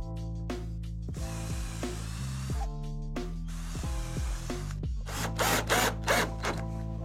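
Screws being driven with a drill into a door frame to fix each hinge in place, several short whirring bursts with ratcheting clicks, close and fairly loud in a workshop with music underneath.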